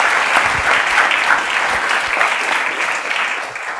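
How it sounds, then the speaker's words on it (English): An audience claps steadily for a few seconds, dense and loud, fading slightly at the end. "Let's give a round of applause both to Bob Inglis and to Brian Murray for facilitating"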